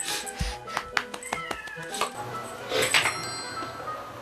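Stray cats meow repeatedly at close range indoors, with light clinks and household noise in between; a voice is faintly present.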